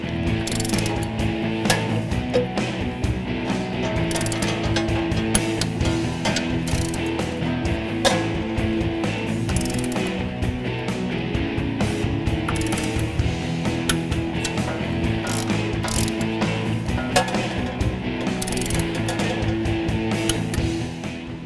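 A hand ratchet torques clutch bolts to 35 foot-pounds on a 1996 Mustang Coyote swap driveline, giving a long run of dense, rapid clicking strokes, close and continuous with little pause.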